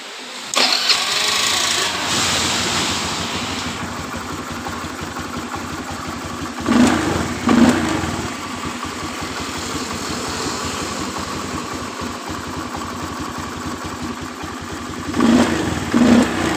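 A Honda Beat FI motorcycle engine with high fuel consumption cranks and catches, then idles steadily with a couple of short revs rising above the idle, close by and fairly loud.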